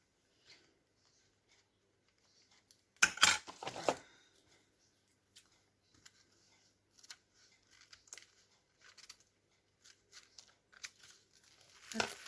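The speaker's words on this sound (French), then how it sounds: "je vais venir découper ce qui dépasse" Scissors trim excess paper from an art journal page, with a dense burst of close snips and paper rustles, then scattered light taps and crinkles, and another cut at the end.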